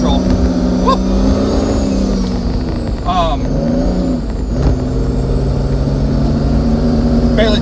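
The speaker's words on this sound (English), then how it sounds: "Barely touch it, and I'm spinning out of that subdivision right there." Car accelerating on a wet road with its wheels spinning out and traction control cutting in: a loud, continuous engine drone with brief rises in pitch, and someone talking over it.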